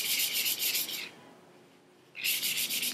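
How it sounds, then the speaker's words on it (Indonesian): Iron being sanded by hand with fine 500-grit sandpaper: two bursts of steady, close, hissy rubbing strokes separated by a quiet pause of about a second, with no voices. "amplas paling halus nomor 500. Oke, ya, oke, silahkan diamplas"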